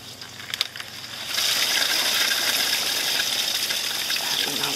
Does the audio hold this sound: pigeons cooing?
no